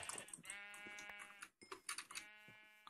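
Sheep bleat in the video game Minecraft: two close, wavering, harmonic bleats, one after the other, with a brief gap between them and soft clicks around them.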